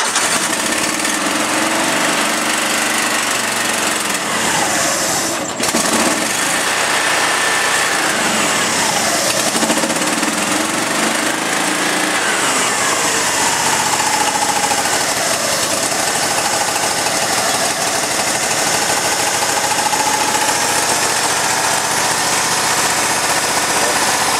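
An engine-driven welder idles while warming up in very cold Alaskan weather, a loud, close, steady high-pitched engine drone with a brief bump partway through and no speech over it.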